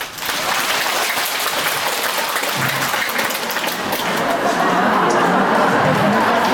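Conference audience in a large hall breaking into sustained applause, a broad continuous clatter of many hands that swells slightly louder toward the end, with faint crowd murmur mixed in.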